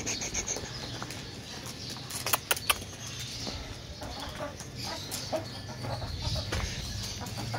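Desi hens clucking in an aviary, several birds near and loud with irregular bursts, plus scattered rustling and clinking from feed being handled.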